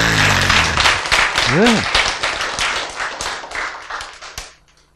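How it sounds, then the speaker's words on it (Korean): An audience at a lecture breaks into applause, a brisk run of claps that tapers away over several seconds, with a short spoken word heard briefly near the start. "박수"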